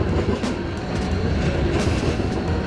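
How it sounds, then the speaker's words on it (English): A tram passes on a busy city street at night, a loud, continuous rumbling roar with clattering wheel noise throughout, close by and unbroken. "Trams are loud"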